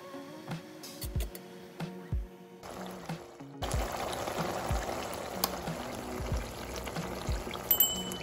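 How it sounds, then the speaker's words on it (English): Oyster sauce with pork, mushrooms and cornstarch thickener poured over steamed bok choy in a home kitchen, a soft steady pour with light clinks and no speech. "pour on top of Steambokchoy and serve."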